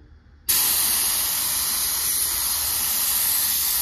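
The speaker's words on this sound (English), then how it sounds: "now I'll see if I can smack another coat on real quick" Cheap Harbor Freight paint gun spraying primer in a heavy coat, a loud steady hiss that bursts in abruptly after a quiet half-second and holds unbroken to the end.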